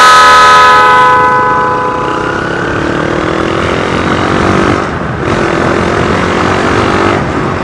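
A loud, sustained Honda CB125 motorcycle horn blares up close, its tone steady for several seconds with a brief dip near the end.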